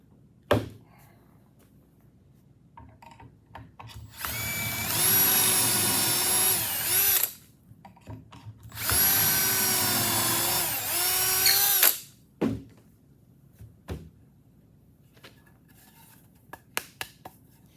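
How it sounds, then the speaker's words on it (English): A power drill drilling holes for greenhouse work whines at high speed in two long bursts, about three seconds each, close and loud, with clunks and knocks between and after. "So we'll flip it around and drill the other side."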